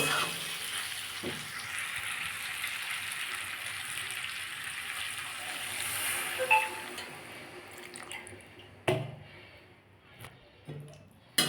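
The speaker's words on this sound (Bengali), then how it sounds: "আমি এবার এর মধ্যে জল দিয়ে দেবো" Water poured into a sizzling fish and potato curry with capsicum, a steady broadband hiss and splash in the pan that fades toward the end, followed by a few sharp clanks.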